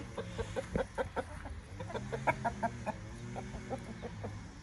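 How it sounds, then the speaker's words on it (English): Several chickens cluck and chatter in short, repeated bursts, fairly close, with a low steady hum underneath and no voices. "So Samson has gotten very used to seeing the chickens through the fence"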